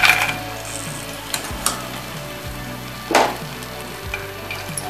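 Chitti kaja dough pieces frying in oil until golden brown, a soft steady sizzle with a low hum beneath and a few brief metallic clinks and scrapes of a ladle.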